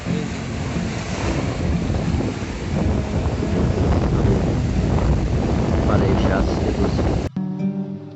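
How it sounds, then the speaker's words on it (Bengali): Sea waves rolling onto Kuakata sea beach, a loud continuous roar of surf mixed with heavy wind buffeting on the microphone, cutting off abruptly just before the end. "কুয়াকাটা সমুদ্র সৈকত বেশ সুন্দর পরিবেশ"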